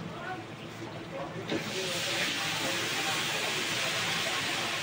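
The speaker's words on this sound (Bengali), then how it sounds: "আলুটা তো ভাজা হয়ে গেছে, এবার দিয়ে দেবে জল।" Water poured onto fried potatoes with onion, garlic and chilli in a large pot, setting off a loud, broad hissing sizzle that swells after a quieter start and holds steady, with voices talking in the background.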